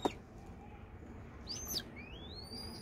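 Young purple swamphen chick begging for food, giving a few thin rising chirps and whistled calls, faint and intermittent over a steady low background hum.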